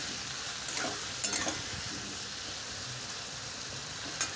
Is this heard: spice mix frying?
yes